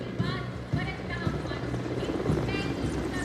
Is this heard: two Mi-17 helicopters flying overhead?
yes